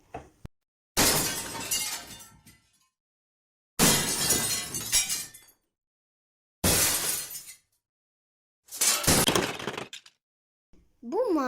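Glass sorted for recycling crashes and shatters in four separate loud bursts of breaking and clinking, each lasting a second or two, spaced by short silences.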